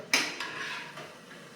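Fried onion and potato bhaji are lifted from the pan onto a plate, giving a sharp metallic clink followed by a few lighter taps and scrapes, close and fairly quiet.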